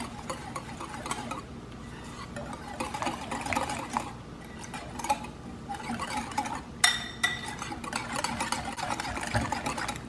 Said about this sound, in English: Whisk.